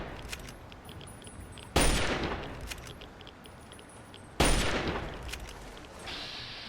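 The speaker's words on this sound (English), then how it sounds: "Yeah, Fireworks." Fireworks in Fallout 3 go off as two sharp crackling bursts over a low game ambience, each a sudden loud pop followed by a sizzling decay.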